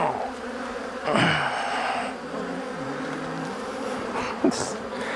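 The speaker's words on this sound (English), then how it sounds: "Doggone bees, you gotta be crazy to be a beekeeper." Honey bees buzzing around a defensive hive during a beekeeping check, a dense close swarm drone with individual bees whining past the microphone, steady throughout without speech.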